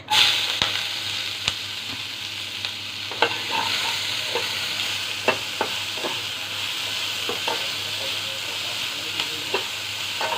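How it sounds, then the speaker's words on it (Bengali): Onions frying in a pan with bay leaf, dried chilli and cumin, a loud continuous sizzle broken by sharp scraping and clinks as they are stirred, with no talking. "এবারে আমি দিয়ে দিব পেঁয়াজ।"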